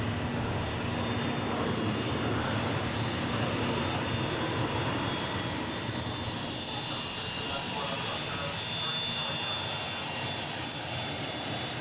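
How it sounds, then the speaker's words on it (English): An older Dassault corporate jet taxis past on an airport taxiway, its engines giving a continuous broad whine and rumble at moderate loudness that stays steady throughout. "This is an older Dassault, still looks in great shape."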